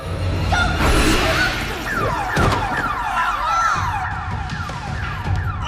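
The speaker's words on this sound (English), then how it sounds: "force field and a siren?" A wailing siren sweeps up and down repeatedly, loud and close, with a brief thud partway through.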